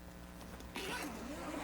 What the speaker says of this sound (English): That there is an expansion zipper to allow you to virtually double the size of that compartment.